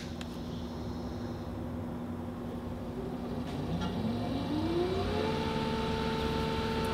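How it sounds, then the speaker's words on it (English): A trolling motor on a fishing kayak with a PWM speed control hums steadily at close range, its whine rising in pitch as the speed is turned up, with no talking. "You can hopefully hear the motor running down here."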